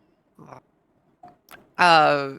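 Human voice imitating wet, gurgly goblin-like growls: short faint bursts, then a loud, buzzy vocal growl near the end, all close to the microphone.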